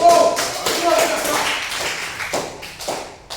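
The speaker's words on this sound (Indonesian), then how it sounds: "Coba kita tepuk tangan untuk teman-teman kita." Students in a classroom clap for their classmates, with a short burst of uneven, close hand claps and taps mixed with a voice speaking over them.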